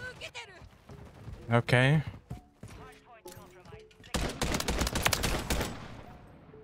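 Gunfire in Call of Duty MW3 comes as a cluster of sharp, rapid shots late in the moment, after someone speaks briefly.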